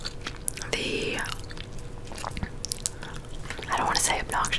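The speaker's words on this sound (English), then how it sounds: "I thought I would do a gum chewing video" Gum chewing for ASMR, soft wet smacking and chewing sounds close to the microphone, scattered through a quiet take with a low whispered voice speaking over parts of it.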